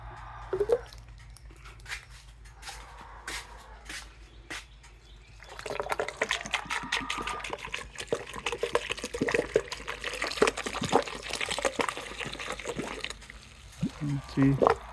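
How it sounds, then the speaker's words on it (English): A mixture of vinegar and distilled water is poured into the radiator of a 2007 Yamaha VStar 1300 motorcycle, with scattered trickles and splashes, then a denser gurgling pour, while someone talks throughout. "We're gonna put the mixture of vinegar and distilled water."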